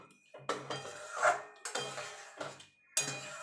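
A spoon knocks and scrapes against a metal pan in about four separate clinking strokes with quiet gaps between them, stirring vegetarian aloo dum just after a hing (asafoetida) tempering has been poured in. No voices are heard.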